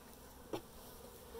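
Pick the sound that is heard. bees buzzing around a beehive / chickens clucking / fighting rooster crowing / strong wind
bees buzzing around a beehive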